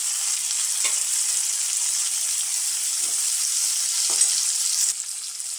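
Onions and tomatoes fry for a fish curry, giving a steady, loud hiss. A few soft stirring scrapes cut through it, and the sizzle eases slightly near the end.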